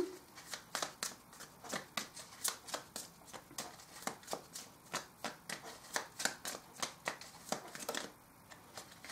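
Tarot cards are shuffled in a steady run of crisp riffling flicks, close and fairly quiet, with regular sharp card slaps repeating throughout and no voices.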